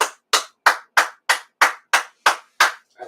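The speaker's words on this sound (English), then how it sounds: "I had to clap for that." A person claps hands nine times at a steady, slightly slow pace, each clap loud, crisp and close, with a faint tenth clap at the end and silence between.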